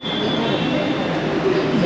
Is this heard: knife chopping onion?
no